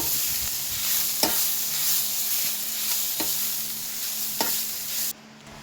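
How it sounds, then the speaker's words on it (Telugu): Onion and tamarind mixture frying in a pan, a continuous close sizzle broken by a few sharp stirring scrapes at intervals, cutting off abruptly near the end. "అది ఇలా అలా 2 సార్లు తిప్పి చల్లారాక దింపేయాలి"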